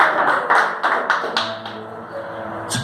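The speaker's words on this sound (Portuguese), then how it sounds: "então aplauda esse Deus Todo-Poderoso" A Pentecostal church congregation claps during a service, a run of rhythmic, evenly spaced clapping bursts that are fairly close and loud, thinning out toward the end.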